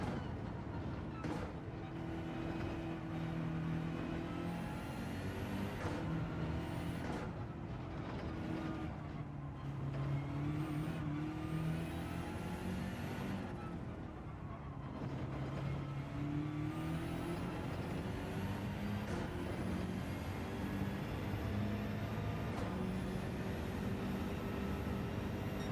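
A Toyota Supra engine in a racing video game, a sustained droning motor with shifting pitch sweeps as gears change, steady and moderately quiet throughout.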